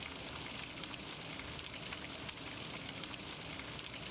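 Steady, dense hiss of rain falling through darkness in the horror game Nun Massacre, an even, unbroken wash of patter at a low level, with no voices.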